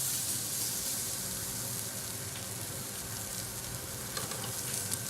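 Mollusc heads sizzling on a hot plancha griddle in a chef's cooking demonstration, a steady, dense, close frying hiss throughout with a few faint scrapes near the end.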